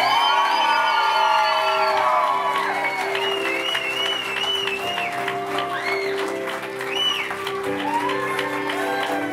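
A crowd claps and cheers loudly at a quinceañera party. Applause runs steadily throughout, with whoops and high shouts rising over it and some voices mixed in.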